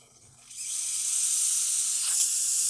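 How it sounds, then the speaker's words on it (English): A steam wand on a Livia 90 espresso machine hisses on abruptly and keeps up a steady, loud, airy hiss close by. "But we're just going to quickly test the steam."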